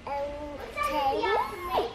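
A voice makes wavering, trumpeting elephant noises, rising and falling in pitch, an imitation rather than a real animal.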